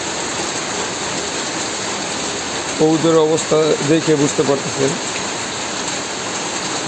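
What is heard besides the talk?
heavy morning rain on a pigeon loft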